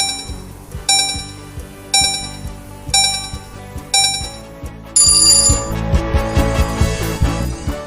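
Classroom countdown timer for a math activity: a repeating electronic beeping tone sounds about once per second for four beats, then a louder continuous ringing alarm with music-like tones follows to the end.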